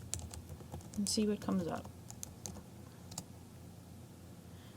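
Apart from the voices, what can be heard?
typing a search term on a computer keyboard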